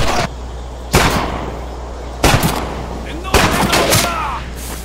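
Gunfire in a combat video game comes as three sharp loud bursts roughly a second apart, each followed by a decaying rumble, over a steady low hum and a voice talking.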